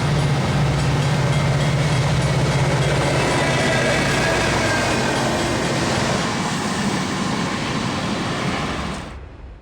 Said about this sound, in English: Amtrak 710 makes its way past the depot with an F40 and Amfleet equipment.